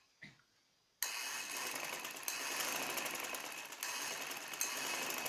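An electric sewing machine stitches fabric for a cherry-design baby frock, starting abruptly after a brief quiet click and whirring steadily with a rapid, even mechanical chatter and a slight dip near the end.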